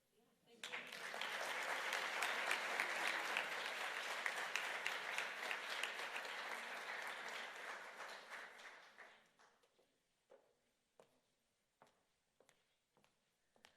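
An audience at a city community meeting breaks into applause that starts abruptly, holds as a full, dense round for several seconds, then fades into a few scattered late claps.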